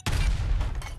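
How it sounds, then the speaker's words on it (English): An explosion in Fallout 4 lands as one loud close boom with gunfire mixed in, a short heavy burst that fades within a second. "Explosion."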